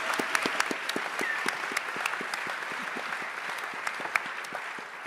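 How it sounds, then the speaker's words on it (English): A room full of people at a Berlinale Talents panel with the festival jury claps in a dense, even round of applause. It stays steady throughout, with a few sharper claps standing out near the front. "Applause to this gentleman."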